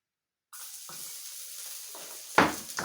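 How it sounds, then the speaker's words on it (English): Garlic sizzling in a hot wok, a steady frying hiss with soft crackles, ending in a sharper louder burst of spitting near the end. "So my wok now is warm and I'm going to add the garlic."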